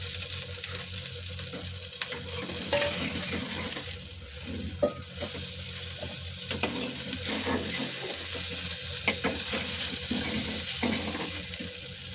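Potatoes and jackfruit seeds frying in a home kitchen, a constant sizzle mixed with a running-water wash, with occasional faint clinks and scrapes scattered throughout.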